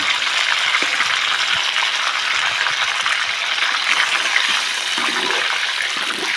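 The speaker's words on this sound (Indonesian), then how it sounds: "Nah, kita goreng dulu biar aromanya keluar wangi." Spices for Sundanese sambal kikil frying in hot oil, a steady, dense sizzle that runs loud and unbroken throughout with a faint stirring clatter.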